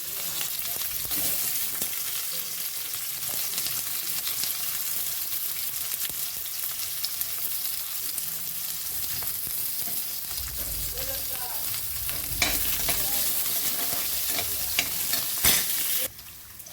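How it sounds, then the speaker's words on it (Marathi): Onion roasting in a pan makes a continuous sizzle and frying hiss, with the scrape and clatter of stirring throughout, close and steady for many seconds, with no talking. "कांदा भाजून घेऊ."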